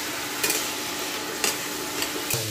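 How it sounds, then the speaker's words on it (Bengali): Potatoes for aloo dum are stir-fried with small splashes of hot water. A constant sizzle carries three or four sharp spatula scrapes against the pan, with no talking. "গরম জল অল্প অল্প দিয়ে আলুটা ভালোভাবে কষে নেব।"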